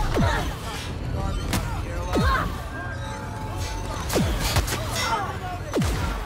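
Gunfire in The Outer Worlds: a chaotic firefight with scattered sharp shots and whooshing energy blasts, several sweeping zaps cutting through a constant din of combat and shouting voices.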